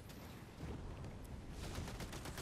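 Distant crackling gunfire in Fortnite's Doom Day mode, a dense low rumble of shots with faint rapid pops building toward the end, no voices.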